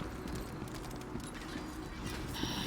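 A white horse mount in the game Lost Ark clip-clops steadily along, its hooves close and fairly loud over a dense game soundscape.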